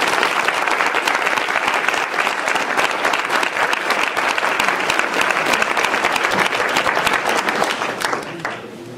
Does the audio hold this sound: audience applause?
yes